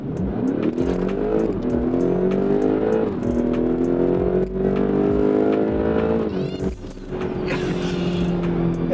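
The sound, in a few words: 2016 BMW X5M accelerating hard at full throttle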